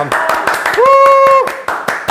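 An audience claps in quick, sharp bursts at a live event, heard close, with loud speech and a sustained voice tone over the middle stretch.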